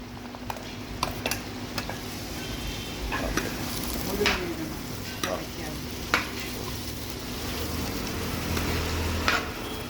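Shallots sizzle steadily in hot oil in a pan while cooking chicken thoran, a constant close frying hiss broken by occasional scrapes and clinks of stirring.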